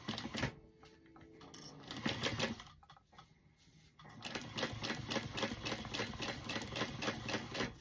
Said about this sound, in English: now we're going to just do a basting stitch on each side just to keep it in spot